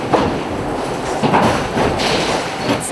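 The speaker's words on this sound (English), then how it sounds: "Each blank goes through this machine. It's called a press." A heavy metal stamping press shaping flattened steel blanks into car parts, a loud continuous rumbling clatter with rhythmic thuds, much like a train rolling over tracks, steady and close.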